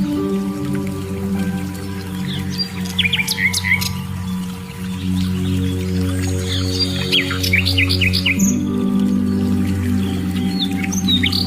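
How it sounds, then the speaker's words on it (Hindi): Several small birds chirp and twitter in quick, scattered bursts over a low, steady droning hum, their calls moderately close and overlapping at times. "चिड़ियों की आवाज से अपने आप जोड़िए।"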